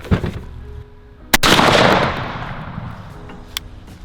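A shotgun fires a 3-inch Winchester shell loaded with No. 2 shot: one sharp, loud blast followed by a rolling outdoor echo that fades over a couple of seconds, with a faint click near the end.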